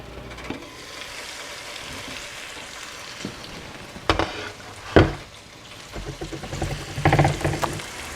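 Onions frying and sizzling in a pan for stuffing, a steady crackle with louder bursts of stirring and spatter, close and alone.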